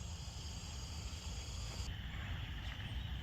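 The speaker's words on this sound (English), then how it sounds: "If you listen carefully, you can hear the chorus frogs." Chorus frogs call from an Iowa sand prairie wetland in April, a steady, faint, high-pitched trilling chorus carrying from a distance without pause.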